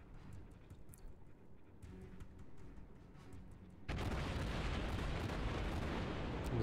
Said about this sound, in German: So, und das ist dann eine Salve und innerhalb von ein paar Sekunden darf man dann wieder schießen.